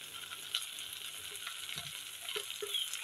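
Vegetables fry in a pan with salt, spices, chopped chilli and onion, giving a soft continuous sizzle with occasional light stirring taps, close and unaccompanied by speech.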